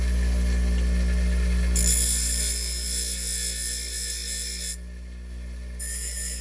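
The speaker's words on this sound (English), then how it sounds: "now I'm going to try to sharpen the tip a little bit" A bench grinder hums steadily while a marking gauge blade tip is pressed against the wheel for sharpening, giving a loud hissing grind that starts, drops away briefly, then resumes, close and without voices.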